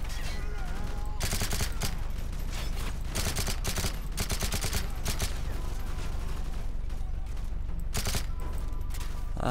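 Gunfire in a Call of Duty: Modern Warfare 3 campaign mission, with dense, loud automatic bursts and rapid volleys of shots over a constant roar of combat noise, with little pause between them.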